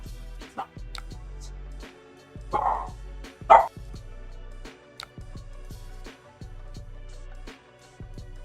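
A dog barks in short, separate yips and woofs, a few louder barks standing out among softer ones, heard fairly close indoors over quiet background.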